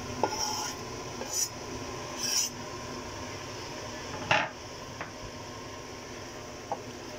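Peeled, chopped tomatoes go into a pan of kleji masala and are stirred, giving soft scraping and a few sharp spoon-on-pan clinks over a low sizzle, with no talk.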